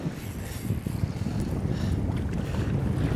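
Strong wind buffets a boat on a lake during walleye fishing, a steady loud low roar of gusts and microphone wind noise throughout with no talking.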